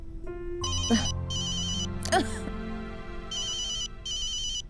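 A telephone ringtone plays in repeated electronic bursts, two before and two after a pause, under a steady background music bed in an indoor drama scene.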